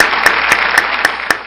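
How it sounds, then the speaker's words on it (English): Audience at a meeting with a guest speaker clapping after a presentation, sharp claps landing in a steady, even rhythm about four times a second over a low background hum. "Let's give her a warm round of applause."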